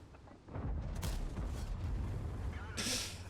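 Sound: tank gun shot in the video game World of Tanks

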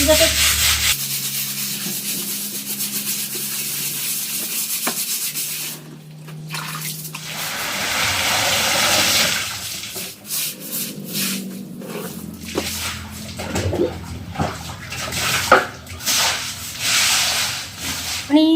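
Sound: scrubbing a kitchen counter while deep cleaning

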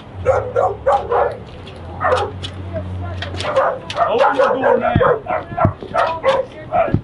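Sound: dog barking

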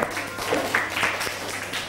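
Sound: classroom applause for a student, Piyawat

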